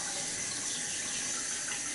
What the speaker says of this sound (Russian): надо заснять этот процесс смывания, я же этим, можно сказать, профессионально занимаюсь, смывая краски